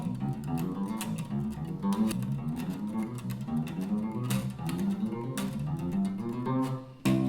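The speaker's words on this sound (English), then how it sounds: "It's a pretty difficult bass run." Fast, busy electric bass notes run up and down in a quick continuous line, moderately quiet and close, with no voices.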